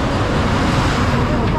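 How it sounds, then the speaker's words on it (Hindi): Dense highway traffic roars continuously close by, a thick, unbroken rumble of cars and heavier vehicles with no gaps between passes. "ट्रैफिक बहुत ज़्यादा है"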